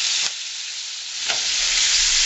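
Coated chicken pieces fry in a hot pan for Spanish arroz con pollo, giving a steady, fairly loud, close sizzle that holds without pause and rises slightly toward the end.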